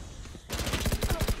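Gunfire from the video game Valorant, a rapid burst of about ten evenly spaced shots that starts abruptly and continues close and loud to the end.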